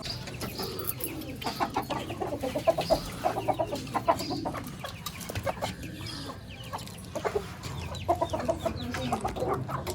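Chickens cluck steadily with scattered rooster calls while being fed grain and water, a busy overlapping chorus of fowl close by, with no talking.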